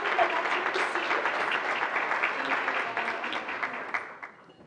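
Sustained applause from an audience at a school career pathway centers launch event, steady and dense, fading toward the end.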